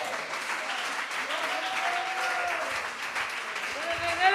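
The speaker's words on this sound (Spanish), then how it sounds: "dele ese aplauso al Señor" Applause for the Lord from a church congregation during a service, a steady wash of clapping filling the room while voices carry over it.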